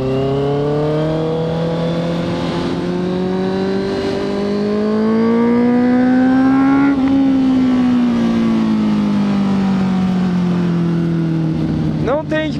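Honda CB650F inline-four motorcycle with a full 4-into-1 exhaust on a test ride, a loud steady engine drone rising slightly in pitch then easing off, close up and continuous.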